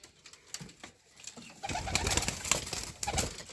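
Pigeons in a loft, soft low coos and shuffling nearby, quiet at first and then a denser burst of cooing and rustling from several birds together.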